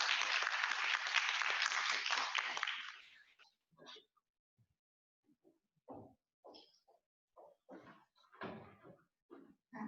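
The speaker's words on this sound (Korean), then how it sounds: "큰 박수 부탁드립니다." An audience at a 2020 Dongwon University academic festival gives loud, dense applause for about three seconds. It fades out into near silence with scattered soft knocks and shuffling.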